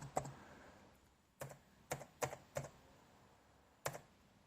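Password keys tapped on a computer keyboard with a malfunctioning, unresponsive keyboard: a few sharp, sparse clicks in an irregular rhythm, near and quiet in a still room.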